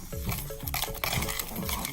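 Dry DIY bath bomb ingredients are stirred and scraped in a bowl, quick rhythmic gritty swishes and light taps close by, with no talking.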